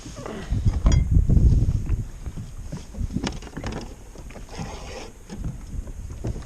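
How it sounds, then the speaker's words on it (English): A kayak rides the sea swell on Westernport, with water slapping and sloshing against the hull in uneven surges, close up, mixed with gusts of wind noise. "Just really not used to the swell in the kayak either, man"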